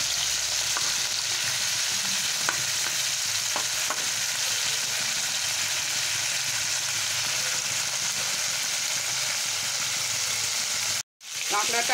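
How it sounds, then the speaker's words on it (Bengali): Crab sizzles in hot oil in a wok with a dense, even frying hiss up close and faint stirring clicks, broken by a brief silent cut just before the end. "কাঁকড়াটাকে ভেজে উঠিয়ে নেব।"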